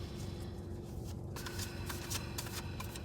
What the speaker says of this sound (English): I was pulling a few cards